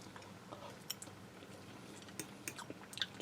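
Soft, close chewing of a mouthful of cheesy, creamy hash brown casserole, with faint wet crunches and small clicks coming in irregular bites over a quiet background.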